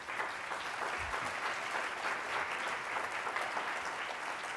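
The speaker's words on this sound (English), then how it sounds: "let's give our panel a big round of applause" A luncheon audience at a city livability meeting gives a panel a round of applause, steady, dense clapping heard from a moderate distance without voices.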